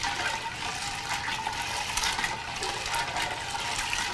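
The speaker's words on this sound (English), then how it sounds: "And now we're going to add several cups of cold water." Several cups of cold water pour into a very large container of peach lemonade, a steady splashing gush that runs continuously at moderate volume throughout.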